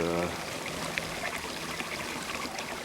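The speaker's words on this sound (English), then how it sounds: "I presume the sound of babbling water can be heard" Steady babbling water in a fountain trickles and splashes continuously, a broad wash of sound with faint talk briefly at the start.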